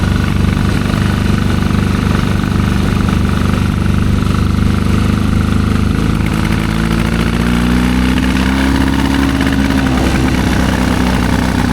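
A 1972 Triumph 650 Bonneville motorcycle engine running rough, a loud, close, continuous throbbing idle that rises in revs partway through, with uneven, breaking-up firing and no talking.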